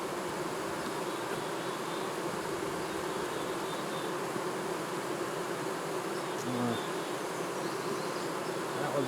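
Honeybees swarm and hum around an opened hive during a split, a dense, steady, close buzz that fills the whole stretch without pause.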